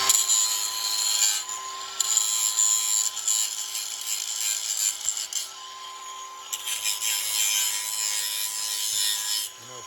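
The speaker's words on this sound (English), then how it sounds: "take your grinder." A grinder works continuously on scrap copper to strip aluminum off it, giving a close, harsh abrasive rasp with slight surges and no talk.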